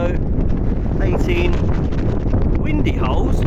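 Strong wind buffeting the microphone on a golf course in a constant low roar, with faint voices barely coming through.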